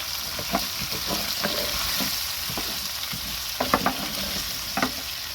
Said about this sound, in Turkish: Patatesleri biraz kavrulduktan sonra hemen mercimeği ekledim. Şöyle biraz da mercimekle kavuruyorum.